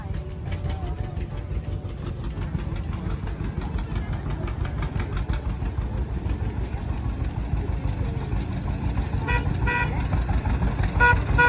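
Tractor engine drones steadily while pulling a wagon ride at a Carlsbad flower field, a loud continuous low rumble throughout with occasional short toots near the end.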